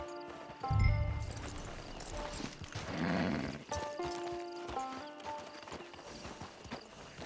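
A horse in the Red Dead Redemption 2 video game walks near a camp, hooves clip-clopping under game music, with a brief whinny early on and no talk.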